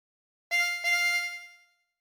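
Tremolo harmonica with 24 holes, drawn through hole 12 twice: two close, high, bright reedy notes in quick succession that fade out, played alone in quiet.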